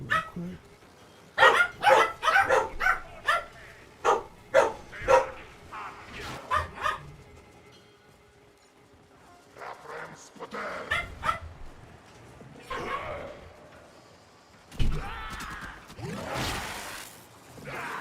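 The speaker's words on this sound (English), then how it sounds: "And figures, dogs bark." Dogs bark in a rapid series of loud, close yaps, then fall quiet before a few more scattered barks and whiny yelps toward the end.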